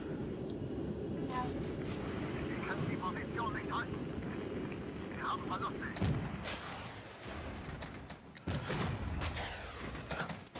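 Military helicopters fly over a battle in the war game Regiments, their droning rotor wash sustained for most of the stretch and broken near the end by sharp thuds of gunfire and explosions.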